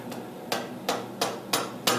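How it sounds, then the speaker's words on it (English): Light hammer taps driving the axle into the hub of a 2004 Harley Dyna Custom motorcycle, six crisp metallic knocks at an even, steady rhythm, close and clear. "gently tap the axle in"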